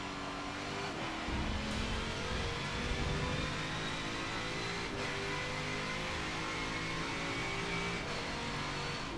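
A race car engine in the Forza Motorsport 7 racing game drones steadily at high revs with a continuous loud whine and faint gear shifts, heard from outside the car.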